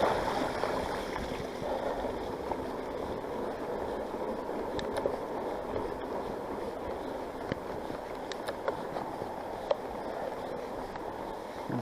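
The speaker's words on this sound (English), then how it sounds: "You can see the river there." A flooded river rushes steadily, its water high up over the trees, heard as a continuous broad roar with light wind buffeting and a few faint clicks, no speech.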